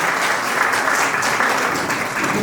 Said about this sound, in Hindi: तो सबसे पहले तालियां बजा लीजिए